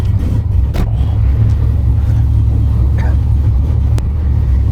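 A 1970 Ford Mustang Mach 1 on the move, a loud, continuous low engine rumble filling the cabin, with faint voices in the background.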